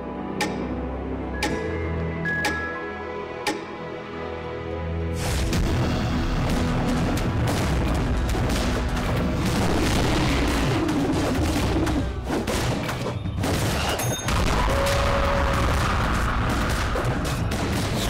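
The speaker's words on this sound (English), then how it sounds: "Shots." Gunfire in the mobile strategy game Chess Rush: several sharp shots ring out over game music, then a denser stretch of booming, crackling bursts and impacts continues loudly to the end.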